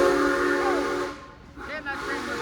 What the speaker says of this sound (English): Damn, that train was loud.